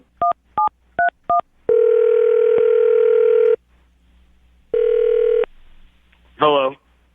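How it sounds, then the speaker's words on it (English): Four short touch-tone keypad beeps, then a long steady dial tone, a pause, a second shorter tone burst and a brief warbling ring as a phone number is dialed for a call, loud and close with no voices. "I'm going to dial the phone number right now, get him on the phone"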